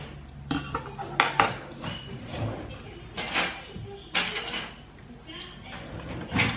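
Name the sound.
taking a spoon, cutlery clinking in kitchen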